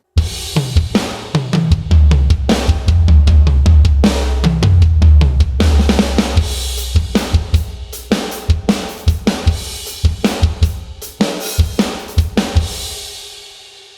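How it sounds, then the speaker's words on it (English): Programmed MIDI drum kit played solo, dense punchy kick, snare and cymbal hits in a steady driving pattern with booming low end, loud and upfront with no other instruments. "So drums on their own sound like this."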